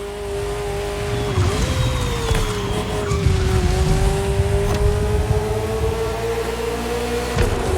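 A Ferrari F40 in the racing game The Crew Motorfest, with a steady, loud engine drone and some tire noise that runs without a break, the pitch dipping and then holding.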